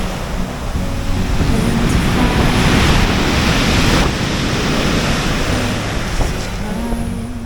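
Steady roar of surf and gusting wind on a Corsican beach, close and loud, with waves washing in continuously and no voices.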